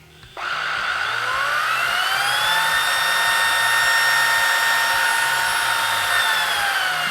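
A Ryobi 18-volt ONE+ brushless two-speed cordless stick vacuum switches on abruptly and runs with a steady high-pitched motor whine, rising slightly in pitch, loud and close, no talking.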